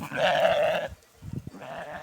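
A lamb on a pasture gives a loud, close bleat, then a short pause with faint rustling, and a second, softer bleat follows.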